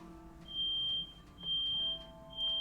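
Fire alarm sound effect: a piercing high electronic tone sounding in three repeated bursts with short gaps, loud against a quiet background.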